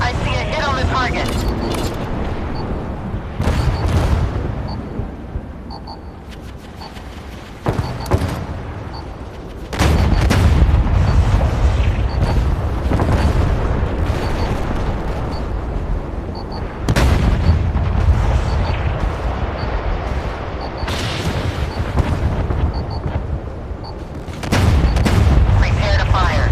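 Warship guns fire in a naval battle video game, heavy booming blasts recurring through the scene and layered over a steady rumbling bed, with a voice talking in between some of the shots.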